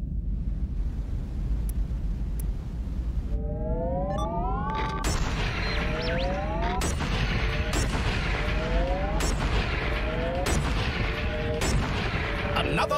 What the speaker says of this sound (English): See if we can use some of our marksman rockets.